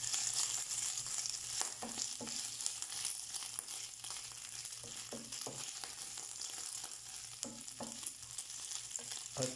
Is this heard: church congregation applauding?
no